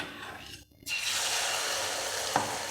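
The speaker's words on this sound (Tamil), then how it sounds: "எண்ணெய் நல்லா சூடாகிருச்சு இப்போ நம்ம வந்து முட்டையை வந்து ஊற்ற போகிறோம்" Egg poured into hot oil in a pan erupts into a loud, steady sizzle after a brief quiet moment, crackling continuously close up.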